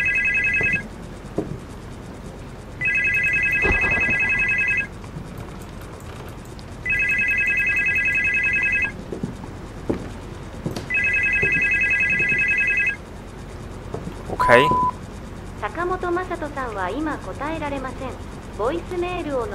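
A telephone in a horror video game rings four times in an even, repeating pattern of bright electronic trills, loud and close. After the last ring, a person starts talking.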